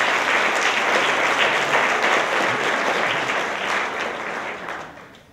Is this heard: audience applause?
yes